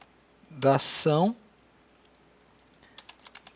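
Light clicks of typing on a computer keyboard come in a quick, uneven patter near the end of the clip, after a short burst of speech.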